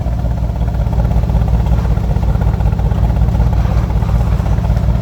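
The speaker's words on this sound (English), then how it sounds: "AMG, man, they do the best exhaust." Mercedes-AMG E63S 4MATIC, 2014, with performance exhaust, idling after a cold start: a deep, steady, loud low rumble holding evenly throughout with no speech over it.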